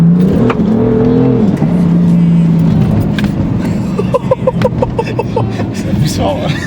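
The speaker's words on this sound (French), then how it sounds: "on est sur un 6 cylindres en ligne qui développe 431 chevaux et on est sur un moteur quand même il est assez coupleux" A BMW M3 with a turbocharged inline six-cylinder engine making 431 horsepower revs loudly at a car meet, its steady engine drone rising and falling before sharper bursts, with people talking nearby.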